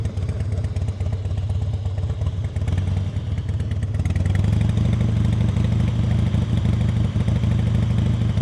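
A motorcycle engine idles and putters during slow-speed riding practice, rough and close, then grows louder and steadier about halfway through as the rider opens the throttle.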